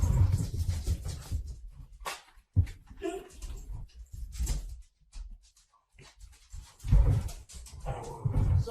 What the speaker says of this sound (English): Actually, the dog you guys hear